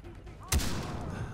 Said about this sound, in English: I'm just getting shot up, man.